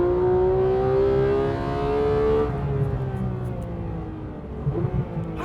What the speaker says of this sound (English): That's why I like cars. Noises like that.